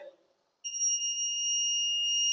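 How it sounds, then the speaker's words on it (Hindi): Buzzer on an Arduino flame-sensor fire detection system, a steady continuous electronic tone switching on after a moment of near silence and holding loud and unbroken to the end. "और बजर भी बज रहा है"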